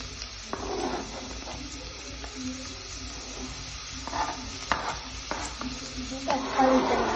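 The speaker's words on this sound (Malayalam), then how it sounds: "നമുക്ക് ലേശം എണ്ണ ഒഴിച്ച് കൊടുക്കാം. ഉള്ളി ഇട്ട് കൊടുക്കാം." Onions fry in a little oil in a pan, a steady sizzle with repeated scraping stirs and clinks that grow busier toward the end, close and moderately loud.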